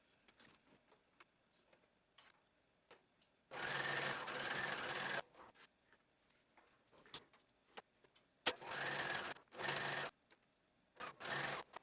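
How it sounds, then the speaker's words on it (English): Sewing or cover stitch machine hemming fabric pieces, running in three bursts: a long steady whir of nearly two seconds, then two shorter runs and a final brief one, with quiet handling clicks between. "now we're going to head to our sewing machine or our cover stitch machine, and we are going to hem both of these"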